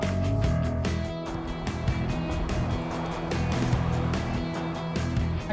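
A car sets off on a first test drive, its engine and road rumble steady and fairly loud throughout, with a broad low drone and scattered knocks from the cabin.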